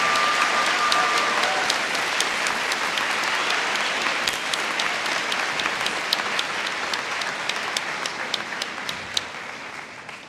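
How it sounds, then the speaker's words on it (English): Applause fills a high school commencement ceremony, a large crowd clapping steadily and densely for about ten seconds, with scattered sharper claps standing out and fading slightly toward the end. "How about another round of applause for Alexa and Lily?"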